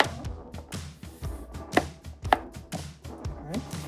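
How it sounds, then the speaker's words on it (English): Onions and potatoes are cut with a knife on a board, a close series of uneven chops with a few sharper knocks, heard alone without speech. "I cut up the onions, boil the tomato, I will cut up the potatoes."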